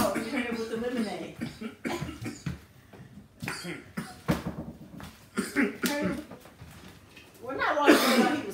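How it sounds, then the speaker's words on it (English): A few sharp coughs break through lively family chatter at a seafood boil meal, with voices talking throughout and a burst of noisy activity near the end. "That was a good cough."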